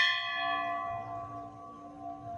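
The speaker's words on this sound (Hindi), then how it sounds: "जब भी आप घंटी बजाते हो ना, जो इसका जो नाद होता है ना" A temple bell at the Baba Baijnath shrine in Agar Malwa rings out with a single struck tone that lingers as a long, shimmering metallic decay, fading slowly with no voices over it.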